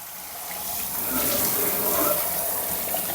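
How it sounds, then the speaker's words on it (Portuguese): Water pours steadily from a sink faucet into a kitchen sink, a dense and constant rushing that grows slightly louder after the first second and carries on without a break. "Abrindo a torneirão ali, ó."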